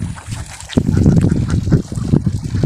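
A flock of ducks in a rice field gives off busy overlapping quacks and gabbling, fairly close and steady through the short stretch, with no talking.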